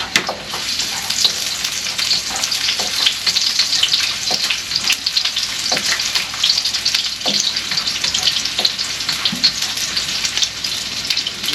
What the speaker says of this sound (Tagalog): Gisa natin yung ano, yung bawang natin. Gisa-gisa tayo.